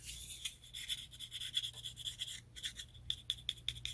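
The FRN plastic handle of a Spyderco Para 3 Lightweight knife being rubbed and handled, giving bursts of dry scratchy squeaks and scrapes in a quick uneven rhythm, close up and quiet.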